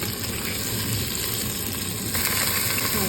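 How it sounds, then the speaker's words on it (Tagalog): Carrots and potatoes frying in hot oil for chicken adobo, giving a dense, continuous sizzle at close range that swells slightly toward the end, with no talking. "Iprito muna natin."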